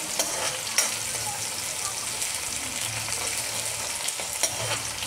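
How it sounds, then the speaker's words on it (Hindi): Garlic with cumin, ginger and green chilli sizzling in a pan for an eggplant bharta tempering, a steady close frying hiss with faint stirring clicks and no talk. "लहसुन को भुनेंगे हम।"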